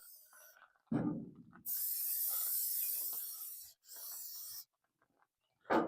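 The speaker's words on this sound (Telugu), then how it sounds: "దీనిపైన కొద్దిగా ఆయిల్ స్ప్రే చేయాలి" Short hissing bursts of oil spray land on marinated Rayalaseema-style tandoori chicken, two sustained sprays close to the microphone separated by a brief pause, with faint handling noises around them.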